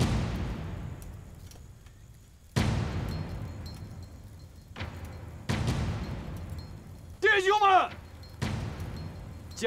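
Mountain gun artillery firing in a war film: four heavy booming blasts, each trailing off into a long rumble, spaced a couple of seconds apart and loud. A brief shout breaks in between two of the shots.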